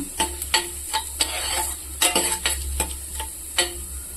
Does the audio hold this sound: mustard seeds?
yes